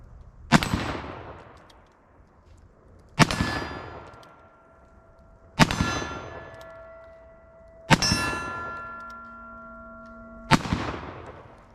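An 1858 Remington black powder percussion-cap revolver fires five sharp shots outdoors, spaced about two to three seconds apart, each loud crack followed by a ringing metallic clang that slowly fades.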